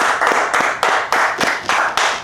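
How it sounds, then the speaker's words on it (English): A small group of people in an interview room clapping together in a quick, loud, rhythmic burst, each clap sharp and close, repeating steadily for a couple of seconds with no talking. "So everybody in the room, let's clap it up for Jay Brock."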